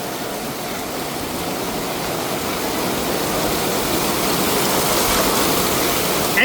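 Heavy rain in Bangkok pours down as a dense, constant roar of rushing water, steady and loud throughout like a waterfall, with no voices over it.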